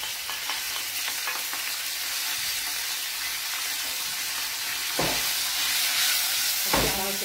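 Cuttlefish soffritto frying in a pan gives a steady, close sizzle that runs throughout, with two brief louder bursts of stirring near the end. No one speaks.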